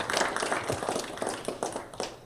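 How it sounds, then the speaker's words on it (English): Scattered hand clapping from a small audience at a tech meetup talk, a brief patter of applause at moderate distance. "Give a round of applause."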